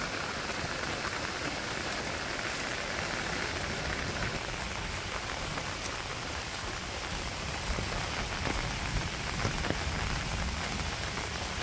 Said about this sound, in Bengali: বৃষ্টিটা তো মোটামুটি ভালোই হইলো